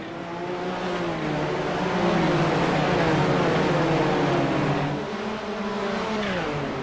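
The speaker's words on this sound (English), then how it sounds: "the GTO's now going to head down the front straightaway" Kamel GT race cars in iRacing at the Nürburgring GP circuit roar loudly and continuously down the front straight, several engines layered with rising and shifting tones and no voices over them.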